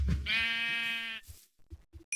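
A sheep in the video game Minecraft gives one loud, clear, wavering bleat near the listener, followed by a few soft short thuds and clicks of game sound.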